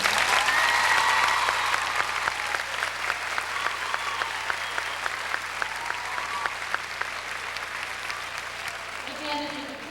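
Applause from a graduation audience at a 1992 high school commencement continues steadily at a moderate distance, with scattered sharper claps and a voice speaking over it.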